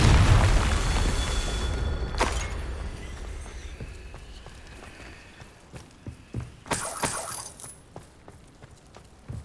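Confringo blasting spell in the Hogwarts Legacy game: a loud booming explosion that decays into shattering debris and scattered crackling impacts, followed by a bright burst near the end, with no one talking.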